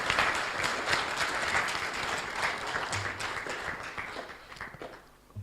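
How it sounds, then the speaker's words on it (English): Sustained applause from a large crowd welcoming a president-elect, a dense continuous wash of clapping that holds steady before easing off at the end. "Please, a louder round of applause."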